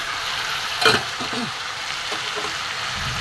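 Mixed vegetables for a vegetarian curry sizzle and fry steadily in a covered pan, a close, continuous hiss with a brief louder clatter near the start.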